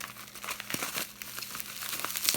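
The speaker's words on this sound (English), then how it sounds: "Next, we have lots of bubble wrap items." Bubble wrap and plastic packaging crinkle and crackle in close, busy bursts while breakable vintage items are unpacked, with a few sharper tearing snaps and no talking.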